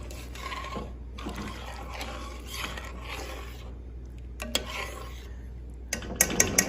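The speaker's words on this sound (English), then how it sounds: "Let's stir that around." Tomato sauce, made with a small can of tomato paste, is stirred in a pot as it comes back to a boil, with a soft continuous scraping and a few sharp utensil clinks against the pot near the end.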